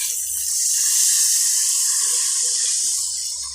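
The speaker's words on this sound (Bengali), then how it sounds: "এখন আমি পরিমাণ মতো জল দিয়ে দিচ্ছি" Water being poured into a pan of Bengali rohu fish kalia curry, a steady broad rushing stream that holds evenly for several seconds and tapers slightly at the end, with no talk.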